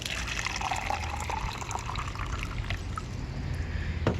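Water pours from a container into a small cup, a continuous close gurgling fill with slight rising pitch, used for propagating a wax begonia.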